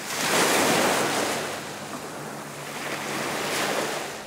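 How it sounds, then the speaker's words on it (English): Waves wash onto Carr's Beach on the Chesapeake Bay with a broad, steady rush of surf and a little wind. The sound swells and eases gently and plays alone, with no voices. "The soothing sounds of Carr's Beach along our Chesapeake Bay"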